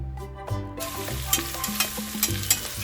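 Chopped onions hit a hot pan for biryani and sizzle loudly up close, with scraping stir strokes and small clacks over the steady frying hiss; no one speaks.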